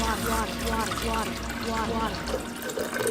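Water poured into a drink, a steady bubbling, gurgling pour that runs for a few seconds, close by, then tapers off.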